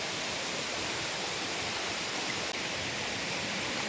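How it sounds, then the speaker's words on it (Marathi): Water trickles and flows out from between rocks on the trail at Karnala Fort, a steady, close, broadband rush that holds evenly throughout with no voices. "हा बघा असं दगडीच्यातून पाणी येत आहे"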